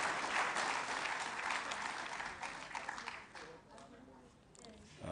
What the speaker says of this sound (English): Another resounding round of applause for His Excellency.